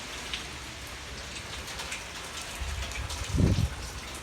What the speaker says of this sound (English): And look how it's raining